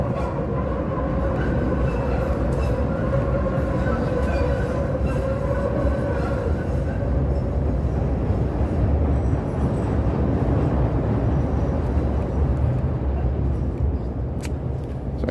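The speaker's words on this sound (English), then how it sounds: "Oh, here comes the train. The train's going through here." A train passes along a Chicago street, a loud continuous rumble and clatter of rail wheels with droning tones that holds steady for over fifteen seconds, with no talk over it.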